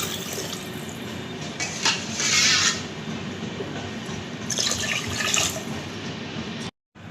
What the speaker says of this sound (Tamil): இப்போ நம்ம எடுத்து வச்சு அரிசிக்கு தகுந்த தண்ணி ஊற்றிக்கலாம்